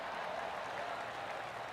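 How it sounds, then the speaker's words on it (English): Golf gallery applauding in PGA Tour 2K23 after a drive lands on the fairway, a brief, soft, steady patter of clapping from a distant crowd. "The crowd goes wild."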